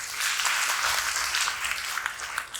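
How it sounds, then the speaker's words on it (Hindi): A crowd claps steadily, a dense, even wash of applause throughout. "तालियां इनके लिए।"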